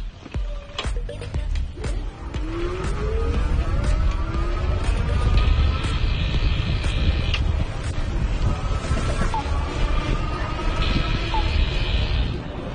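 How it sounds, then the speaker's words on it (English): An AliExpress electric bike's hub motor running at pedal-assist level 5 on the road, a rising and falling whine over loud wind rush and road rumble, with occasional clicks. "I'm going to go all the way up to assist level 5. and then just show you the motor."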